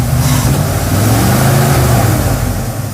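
An abandoned field-find truck's engine revs loud and close as the ignition is worked, a steady, strained roar holding for a few seconds before easing slightly.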